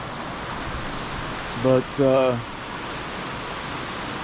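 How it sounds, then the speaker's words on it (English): Steady outdoor rain pours down as a broad, even hiss, with a voice speaking briefly partway through. "I just got absolutely soaked and it started raining"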